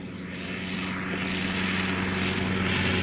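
A vintage propeller aircraft flies past at the Shuttleworth air show, its steady, loud engine drone swelling slightly across the stretch with no talk over it.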